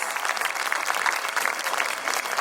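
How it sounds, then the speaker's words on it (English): An audience at a school awards event gives the achievers a brief, even burst of applause, many hands clapping together at moderate loudness with no voices on top. "Audience, can we have a huge round of applause for the achievers?"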